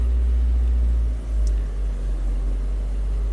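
A Chevy Captiva with a GDI engine, swapped and showing a fuel pressure fault, runs at a raised, steady RPM, giving off a continuous low engine rumble with a brief dip in level partway through.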